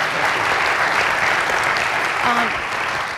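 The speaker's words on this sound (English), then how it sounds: "if I could just get a round of applause for that" Audience applause at a city State of the City event, a steady wash of clapping throughout, with a brief voice audible near the end.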